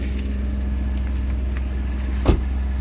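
A Mitsubishi Mirage engine idles with a steady low hum, joined by a brief click or thump near the end.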